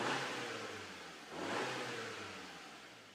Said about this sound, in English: this car's got a nice snort off it, so I'm just going to rev it.